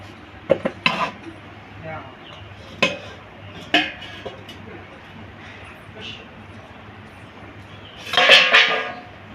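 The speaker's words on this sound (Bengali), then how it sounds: "এবার আমি ঢাকাটাকে খুলে নেব" The lid comes off a pot of mutton and potatoes cooking, with scattered metallic clinks and knocks against the pot followed by a louder burst of rattling and clatter near the end; a voice talks at times.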